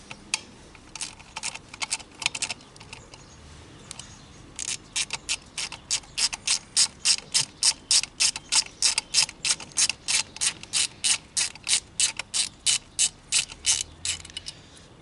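Rapid clicking of a ratchet loosening a small hex bolt on a Vespa exhaust, a close, crisp run of evenly spaced clicks that grows steadier and louder midway, with no talk.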